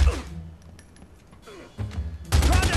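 Gunfire rattles in The Godfather 2 video game during a fight at a compound. A heavy burst opens, scattered quieter shots follow, and dense loud firing returns at the end.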